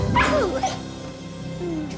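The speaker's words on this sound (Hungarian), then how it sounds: "Félek, hogy ez a kutya túl komolyan veszi a rodeó attrakciót." Cartoon dog in a Wild West rodeo scene barking and yipping near the start, a couple of sharp yelps over music with a whimpering tail, then quieter underscore.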